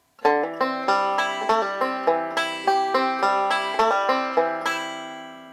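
A banjo plays a quick run of bright, twangy notes in a steady rhythm of square rolls, a C fill lick, each note ringing and decaying before the next.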